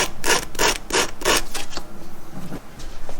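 A hand file rasps a bevel onto the end of a 1/4 inch shaft with about five close, loud, rhythmic back-and-forth strokes, then a few softer rubs.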